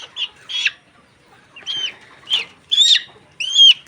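Layer hens suffering from swollen, watering eyes give loud, distinct clucks in a series of about six separate calls spaced across a few seconds, close by and without talk.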